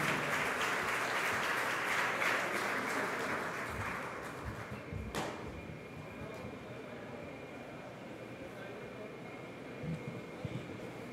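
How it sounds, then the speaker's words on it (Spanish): Audience applause at a vacation ownership industry convention panel in Mexico, a dense, steady clapping wash that fills the hall for about four seconds before easing into softer scattered claps and room noise. "Un aplauso, por favor."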